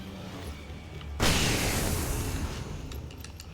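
A frag grenade blast in an Alan Wake Remastered gameplay session: one sudden loud boom that cuts in abruptly, then a long rumbling, crackling decay with faint scattered pops afterward.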